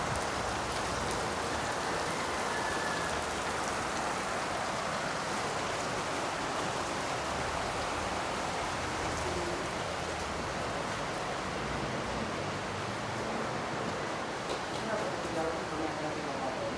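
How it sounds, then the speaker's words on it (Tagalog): Heavy rain pours steadily on surfaces at a home in Baesa, Quezon City, a dense unbroken hiss of drops that stays loud and even throughout, with no talk over it. "Umulan. Lakas ng ulan."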